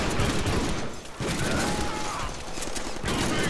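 Pistols fire in rapid, dense bursts during a Deadpool video game fight, a loud, continuous clatter of shots with a brief dip partway through.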